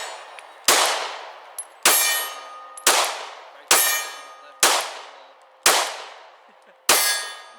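Seven loud metallic clangs of pistol rounds from a Springfield Hellcat striking a steel target, evenly spaced about a second apart, each sharp ring decaying quickly in an open outdoor range.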